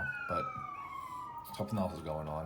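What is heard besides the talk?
emergency vehicle sirens passing outside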